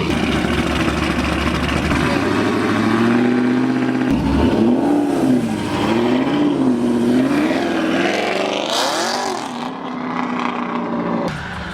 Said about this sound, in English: That Vic is doing a burnout.